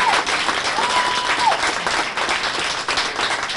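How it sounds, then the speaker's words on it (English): Audience applause at a governor's event honoring a departing staff member, a dense steady wash of clapping from a sizable crowd lasting several seconds with a brief faint tone near the start. "How about a big round of applause for Kathy?"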